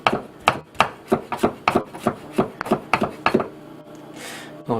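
Rhythmic knife strokes from a LamsonSharp Rosewood Series knife dicing on a cutting board, about a dozen crisp, evenly spaced chops close up, followed by a softer scraping sound.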